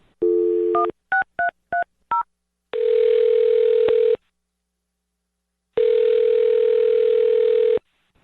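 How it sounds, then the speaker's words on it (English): A telephone being dialed: a short tone, then five quick touch-tone beeps in a row, followed by two long steady dial tones separated by a gap of silence, clear and close with no talking. "I'm going to dial his phone number right now"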